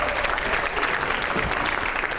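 A studio audience applauds loudly for BJP MP Ravi Kishan, a dense, continuous wash of clapping that holds steady for a couple of seconds with no voices on top.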